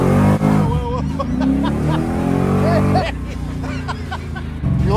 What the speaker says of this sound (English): It's time to get down to serious business and launch this thing off the trans brake